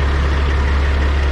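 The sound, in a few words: Peterbilt truck engine idling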